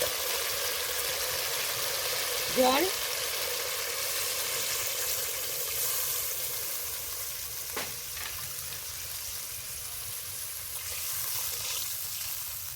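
Water goes into fried spice paste for a Bhola fish curry with mustard and poppy seed, giving a continuous, even sizzle with a couple of faint scraping stirs, steady and moderately loud throughout, with no voices.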